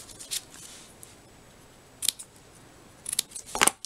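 Scissors snip paper for a scrapbook layout: a few sharp, close cuts spaced apart, then a quick cluster of snips at the end over a quiet background.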